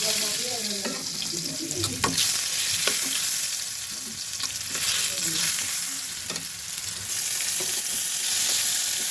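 Pumpkin slices fry in oil in a pan, a constant near sizzle and crackle broken by scraping stirs and occasional utensil clinks, with no voices over it.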